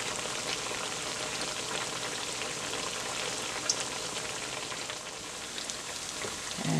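Corn meal fritters (sorullitos de maiz) fry in a non-stick frying pan, giving a steady, even sizzle and crackle of hot oil that runs throughout, close and moderately loud, with no talking.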